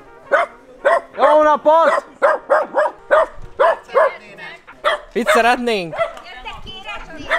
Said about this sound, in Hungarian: Amúgy a kutyák harapnak.